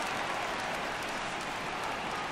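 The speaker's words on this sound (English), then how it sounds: "Crowd gets up for the 3-2." Stadium crowd noise in the baseball video game MLB The Show 17, a steady broadband roar of fans rising on a full count, continuous and fairly loud with no break across the moment.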